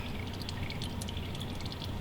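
Final drops of engine oil falling from the drain of a 1998 Chevy S10 during an oil change, soft irregular drips pattering close by over a steady low background hum.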